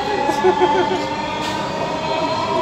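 A Dhaka metro train bound for Motijheel rumbles steadily along the track, a constant hum with faint whine tones, fairly loud and close, with a voice murmuring faintly in the background.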